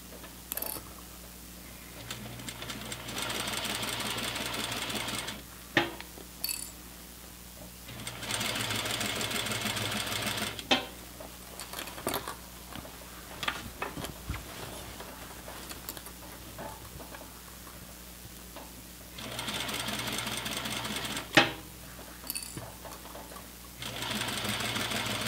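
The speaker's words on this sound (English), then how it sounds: "I'm sewing from the inside to the outside on this so I can keep track of the waistband." Sewing machine stitching a pants waistband from the inside out, running in steady whirring bursts of a few seconds each, separated by quieter pauses with small clicks and handling noises.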